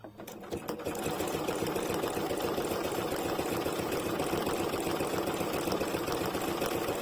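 A close sewing machine runs continuously, sewing a 3D satin stitch with a rapid, even mechanical chatter for about six seconds after a brief clatter at the start.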